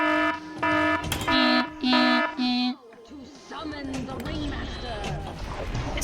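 A loud electronic buzzer sounds a ten-minute warning at a pinball charity event, several long steady blasts in quick succession, then fading into lively crowd chatter and speech.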